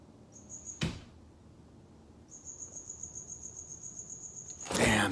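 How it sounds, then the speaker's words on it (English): A cricket chirps indoors in a house in a steady high pulsing trill, pausing briefly and resuming, with a couple of sharp knocks or bumps nearby. "There's a cricket. Can you hear the cricket?"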